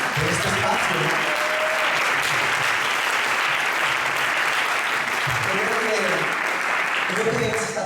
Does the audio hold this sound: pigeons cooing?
no